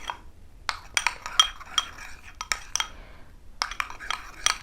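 A spoon clinks and scrapes against a bowl while aloe vera gel is stirred into a face pack, giving sharp, irregular taps and knocks with quiet gaps between them, up close and with no talking.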